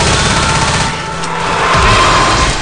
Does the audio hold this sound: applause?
no